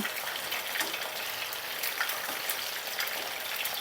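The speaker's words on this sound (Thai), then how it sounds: "ทอดไฟกลางๆไปเรื่อยๆค่ะพี่น้องนะคะ" Chicken frames fry in oil with garlic and pepper over medium heat, giving a steady, dense sizzle and crackle that stays even throughout, close and moderately loud with no talking.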